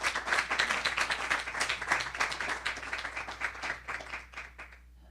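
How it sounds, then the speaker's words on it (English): Audience applause at a diplomats' association book talk as a former ambassador takes the podium: dense, steady clapping from a room full of people that swells, holds, then fades out near the end. "Please give him a big round of applause as he takes the podium"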